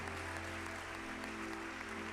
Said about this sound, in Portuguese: uma salva de palmas para o general de Deus em nome de Jesus